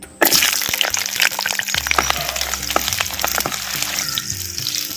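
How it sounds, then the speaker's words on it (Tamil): Ten peeled small onions drop into hot sesame oil in a clay pot with a sudden loud burst of sizzle. The frying then settles into a close, steady crackle with scattered pops. "இப்போ உரிச்ச சின்ன வெங்காயம் பத்து சேர்த்துக்கிறேன்"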